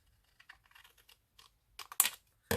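Paper trimmed for a bookpage pocket with vellum windows: a few soft scattered snips and rustles early on, then a burst of louder crisp cutting and handling noise near the end, close and with no talking.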